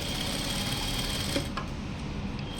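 A sewing machine stitches a fall onto a saree, a steady close mechanical whir with rapid needle clatter and a slight shift near the end, with no voices.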